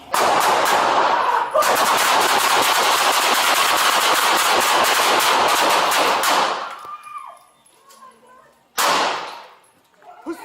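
Dense rapid gunfire rattles nonstop for about six seconds during a police standoff with a barricaded suspect in Denver, then fades and returns as a shorter, loud second burst of shots.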